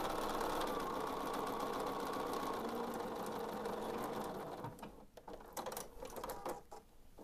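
A sewing machine stitches a quarter-inch seam on a fabric doll panel, running in a steady continuous whir that breaks into short stop-start bursts for backstitching near the end.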